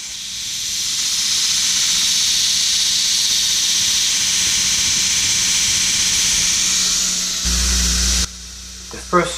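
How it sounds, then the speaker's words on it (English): A 5160 spring steel knife blade ground on a belt grinder, a loud continuous high whine and rasp that holds steady, then cuts off and changes near the end. "First phase, I grind the knife to the thinnest I want to get it before I harden it."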